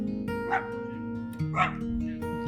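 Neighbors' dogs bark outdoors in two or three separate bursts over a steady background hum, fairly close and moderately loud.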